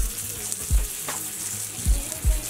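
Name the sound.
salt pork belly frying and crisping in a pan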